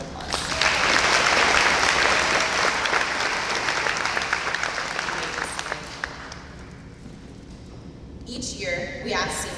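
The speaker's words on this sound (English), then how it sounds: "Please join me in giving all of our honorees a round of applause." A graduation audience applauds its honorees, a loud, dense wash of clapping that gradually thins and fades before a brief burst near the end.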